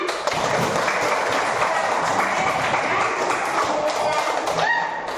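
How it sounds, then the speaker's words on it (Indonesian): A fifth-grade class claps during a coding and artificial intelligence lesson, a dense, fairly loud patter of many hands that fills the whole stretch, with a few voices mixed in. "Bagus, tepuk tangan."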